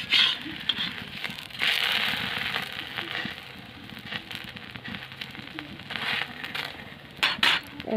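Oil sizzling and crackling steadily in a pan as a coconut-filled flour pancake fries, with faint clinks of a utensil on the pan over constant frying hiss.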